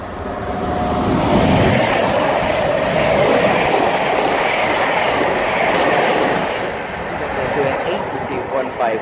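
A Class 90 electric locomotive hauls a train through Needham Market station on the Great Eastern Main Line, a loud rushing roar with rail clatter that swells, holds and fades as it passes close by.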